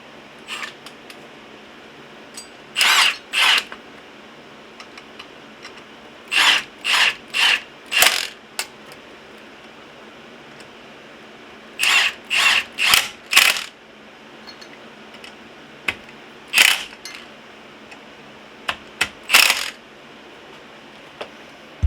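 Repeated bursts of ratcheting as a part is bolted back onto a Honda EF chassis with a B-series engine swap, short clicking runs in clusters with pauses between, close and fairly loud, no talk.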